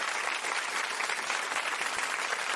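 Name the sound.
applause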